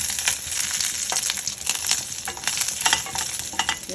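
Curry leaves and dried red chillies fry in tempering oil with a loud, crackling sizzle, dense bursts of spitting and popping mixed with stirring scrapes, continuous and close with no talking.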